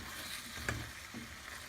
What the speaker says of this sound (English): I'm going to give that a stir first of all